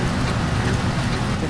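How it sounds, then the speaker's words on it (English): Steady rain falls in the driving game BeamNG, a dense constant hiss of drops spread evenly through the short stretch, close and moderately loud, with no voices over it. "I think I'm getting some rain now."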